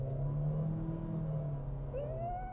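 A Baojun Valli wagon's engine in sport mode drones steadily under load, then climbs in pitch near the end as it revs harder, heard from inside the cabin with no voices.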